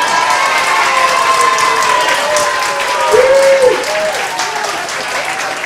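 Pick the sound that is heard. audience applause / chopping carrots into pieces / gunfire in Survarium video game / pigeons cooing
audience applause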